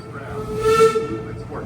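A steam train whistle sounds at Busch Gardens Williamsburg, a single brief, hissing whistle blast swelling and fading within a second or two, heard from some distance over faint background noise.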